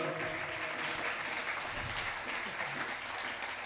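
Loud, continuous applause from an audience at a musical event held at the Embassy of India in Washington DC, a thick, steady roar of clapping hands that holds its level from start to finish.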